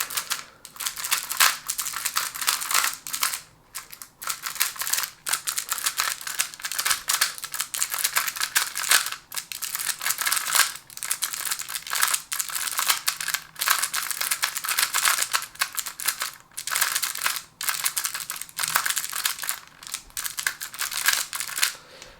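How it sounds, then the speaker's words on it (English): A smart cube puzzle, an older model, gives rapid, continuous plastic clacking as its layers are turned, loud and close throughout with brief pauses and no voices. "And you can hear the clack sound,"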